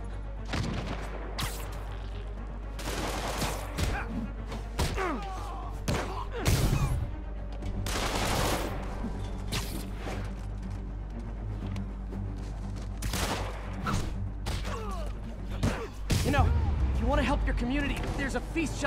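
Gunfire from armed enemies in the Marvel's Spider-Man video game: dense, repeated shots and booming impacts fill the scene, with short bursts recurring throughout and voices talking over the combat.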